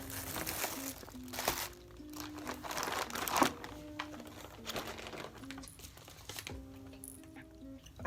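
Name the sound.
sealing shipping package with logo stickers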